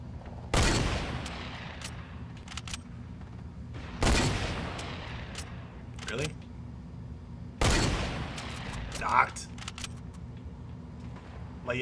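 Gunfire in the video game Fortnite Battle Royale: three loud, sharp shots spaced a few seconds apart, each with a ringing tail, over a steady low game background hum.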